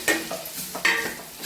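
Chopped ridge gourd is stirred in hot oil tempering with chilli powder, sour masala and turmeric, giving two quick scraping stirs over a soft sizzle, close and clear with no talk.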